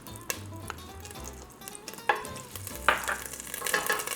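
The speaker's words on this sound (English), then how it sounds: "We're going to add in the soybean oil." Soybean oil sizzles in a hot pan on a stovetop, a low steady crackle punctuated by several sharp clinks and scrapes of utensils against the cookware, close and fairly loud.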